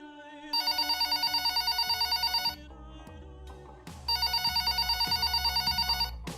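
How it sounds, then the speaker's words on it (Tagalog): A telephone rings in two long bursts of rapid trilling bell pulses separated by a short pause, loud and close in a quiet room. "sagutin ang nagriring na telepono"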